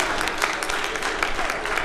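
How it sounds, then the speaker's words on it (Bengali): An audience at a couples' fair claps together in a brief, dense burst of applause, even and sustained throughout. "একটা জোরে হাততালি হবে।"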